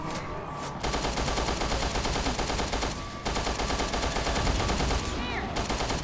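In the video game Resident Evil Revelations 2, gunfire comes in rapid, sustained automatic bursts. The loud, dense volleys are split by two short pauses.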